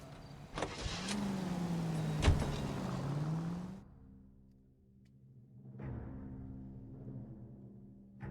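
A car in the video game L.A. Noire is heard with a rising and falling engine whine under road noise, with a couple of sharp knocks, before it quiets and a softer hum returns.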